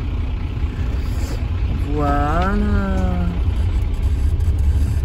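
Cars pass a busy parking area in Brittany, a steady broadband traffic rumble that persists throughout, with a brief spoken word near the middle.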